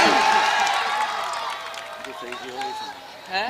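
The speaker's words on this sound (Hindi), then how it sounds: "तालियां बजाकर मोहब्बत से बुलाइए ताहिर अर्शी।" A nighttime village mushaira crowd claps and cheers to welcome poet Tahir Arshi, with a dense burst of applause fading under a loud announcer's voice and crowd murmur.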